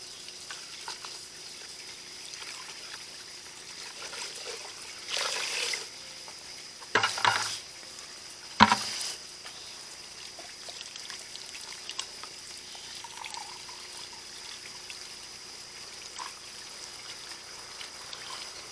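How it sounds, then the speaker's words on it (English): Water washes and sloshes over Cherokee Purple heirloom tomato seeds in a bucket holding an inch or two of water, a faint steady trickle broken by a few louder splashes and stirs. "I put about an inch or two of water in the bucket is all. And now I'll just let it wash over these."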